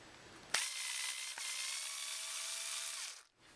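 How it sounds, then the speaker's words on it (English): A power screwdriver drives a screw into a mini cocktail arcade cabinet panel, whirring at a steady pitch for about two and a half seconds after a sharp start. A brief click interrupts it partway, and the motor cuts off abruptly at the end. "when I actually put this screw in here, screw it down"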